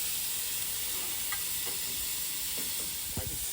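Prawns fry in hot oil in a pan with a constant close sizzle and hiss, while a few soft knocks and stirring sounds come through underneath.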